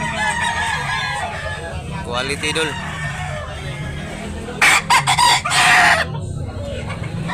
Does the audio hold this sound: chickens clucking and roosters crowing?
yes